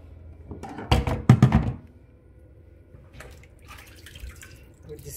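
Spinach washed by hand in a bowl of water with vinegar, with a short burst of close splashing and sloshing followed by quieter dripping and handling noises.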